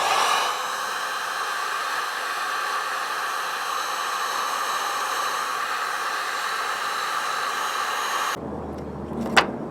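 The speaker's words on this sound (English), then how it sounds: "Heat lamp." A heat gun blows steadily to melt plastic on a GM brake light socket, a loud, close, continuous whooshing hiss that cuts off abruptly near the end, leaving a quiet hum and a small clack.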